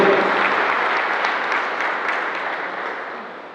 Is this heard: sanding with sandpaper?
no